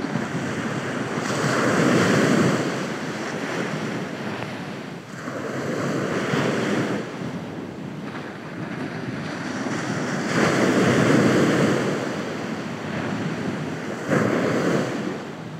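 Ocean waves surging onto a shore in slow, repeated swells of broad roaring wash, loud and close, with wind buffeting the microphone and no voices.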